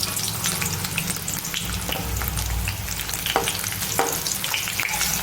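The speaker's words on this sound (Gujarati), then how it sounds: "આપણું લસણ સતળાઈ ગયું છે હવે આપણે એમાં કાંદા નાખીશું" Onions and garlic frying together in a pan for a Kathiyavadi corn chilli dish, a steady close sizzle with occasional scraping stirs and no talk.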